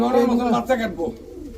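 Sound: pigeons cooing

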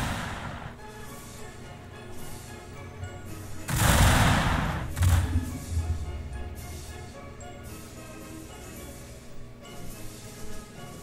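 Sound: musket infantry fire by rank volleys in Shogun 2: Fall of the Samurai video game

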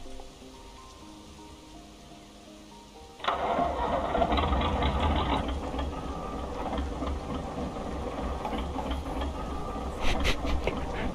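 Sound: Fiat FNM 210 truck engine starting, Euro Truck Simulator 2 video game

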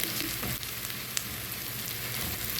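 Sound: onion frying until browned

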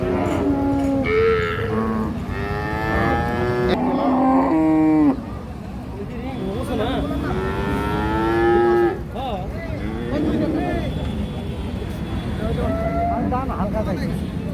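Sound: Holstein Friesian cow mooing at a cattle market

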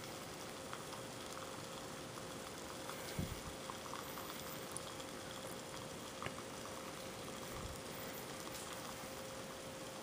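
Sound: water boiling on a tartar sauce holder alcohol stove

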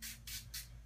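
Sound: spraying Chrysal Glory flower treatment onto flowers

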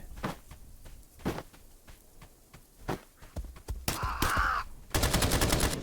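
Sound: gunfire in the video game Escape from Duckov

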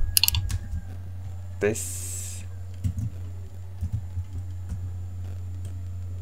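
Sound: typing on a computer keyboard

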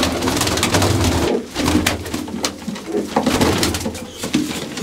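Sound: pigeons cooing in a loft

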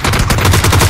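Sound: gunfire in video game PUBG

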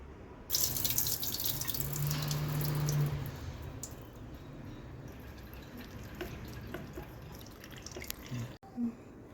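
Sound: washing tamarind in water

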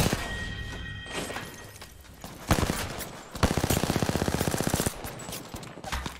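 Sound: gunfire from a shooter video game, Apex Legends

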